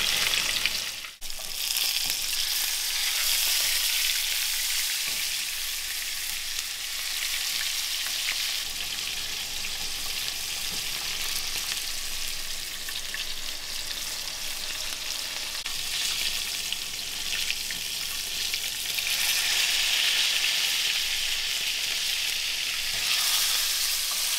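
Beef fillet for beef Wellington sears in a hot skillet with a loud, continuous hiss and crackle that runs unbroken throughout, nearby and unaccompanied by any voice.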